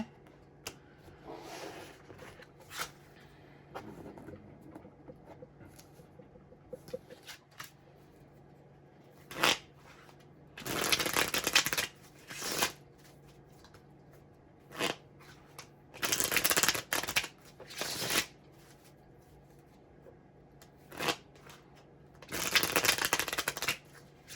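Tarot cards being shuffled for a reading, repeated loud riffling bursts of several seconds each, close up, separated by quieter handling, with no talk.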